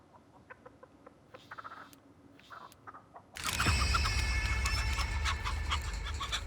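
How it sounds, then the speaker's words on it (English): A chicken named Nugget in The Texas Chainsaw Massacre video game, recorded from real chickens, gives soft scattered clucks and murmurs, then a loud, sudden burst of sustained noise takes over. "The game's composer, Ross Tregenza, used real chickens for the audio for Nugget"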